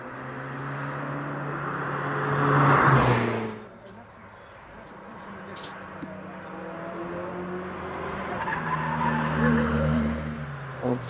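A little Abarth pulls away up a hillclimb course, its engine note rising then fading into the distance, with a commentator talking over it throughout.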